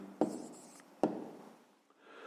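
A pen jots down the answer to a maths problem on paper, two sharp taps followed by short scratchy strokes, close and quiet.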